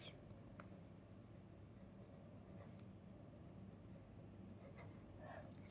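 Chalk or marker strokes on a board during a Hindi maths lesson on profit and loss, a steady scratching of writing over a low room hum, with no talking in between.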